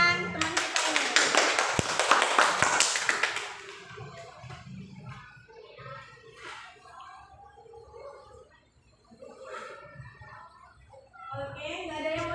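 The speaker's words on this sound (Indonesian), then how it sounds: "Beri tepuk tangan teman kita ini." Classroom applause for a student during a fiqh lesson at an Indonesian madrasah, loud and dense clapping for about four seconds, then fading into scattered murmuring and children's voices chatting nearby.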